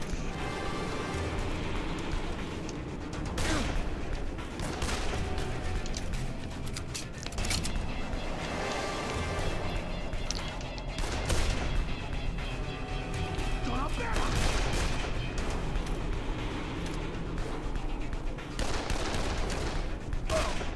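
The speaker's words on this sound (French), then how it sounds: "C'est évidemment juste un tir de couverture, parce qu'on ne sait jamais." Covering gunfire in the zombie video game Dead Island: repeated bursts of shots and crashing impacts come in irregular clusters over a constant game soundscape, with a voice talking over much of it.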